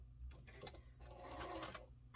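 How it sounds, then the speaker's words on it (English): A sewing machine runs steadily as it stitches small quilt block units together for a basket-style star block, a continuous close mechanical whir with slight rhythmic pulsing and no talk. "I'm going to sew these three little units together"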